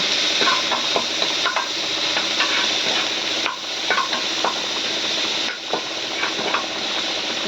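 Chopped onion, garlic and green chilli fry steadily in a pan, a dense continuous sizzle broken by frequent scraping stir strokes, close and loud with no talking.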